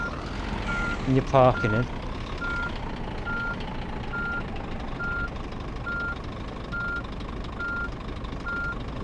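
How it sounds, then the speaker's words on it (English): Reversing beeps from a truck in the On the Road truck simulator game: a steady chain of evenly spaced electronic beeps, about one per second, over a low engine rumble. A voice speaks briefly near the start. "You can hear the reversing sound."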